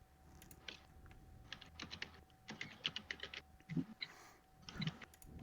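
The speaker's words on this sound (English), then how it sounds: "Typing." Keys clatter on a computer keyboard in quick irregular bursts of clicks, close and fairly quiet, with short pauses between runs and no one talking.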